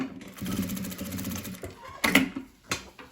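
A sewing machine stitches and then backstitches at the end of a seam on a ruffled fabric piece, a close mechanical whir broken by short pauses and a few sharp clicks.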